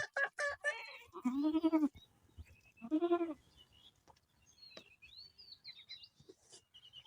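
Newly added goats on a small farm bleat in a few loud, wavering calls near the start and middle, separated by quiet stretches with faint chirps and scattered small noises.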